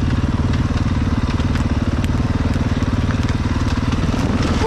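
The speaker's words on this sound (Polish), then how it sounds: "To już ten motor leci" A motorcycle comes down a slag heap toward the bushes, its engine throbbing in a fast, steady pulse. The sound is loud and near, with a rough crackle over the rhythmic low thump.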